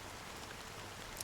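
A fine drizzle of black rain falls in Honkai: Star Rail, heard as a soft, even hiss of tiny drops that stays faint and steady throughout, with no other sounds over it.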